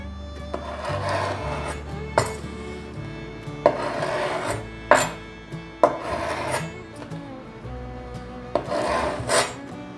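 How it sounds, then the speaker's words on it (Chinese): A knife cutting soaked black wood ear fungus on a cutting board, with repeated close scraping strokes and sharp knocks of the blade against the board in an uneven rhythm. "把黑木耳切成等份的大小，"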